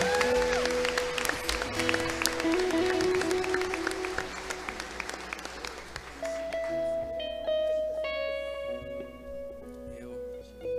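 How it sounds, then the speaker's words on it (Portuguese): A church congregation claps along, the applause mixing with sustained keyboard or organ tones that carry on and shift in pitch as the clapping thins out. "Aplauda o nome do Senhor Jesus"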